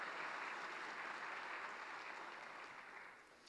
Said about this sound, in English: Let's give all of our new partners big